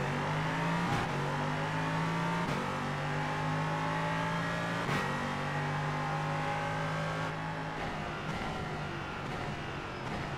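An LMP3 race car in the iRacing game accelerates hard at the green flag at Interlagos. The engine revs up loudly and repeatedly, with sharp gear-change breaks between the rising pulls, close and continuous.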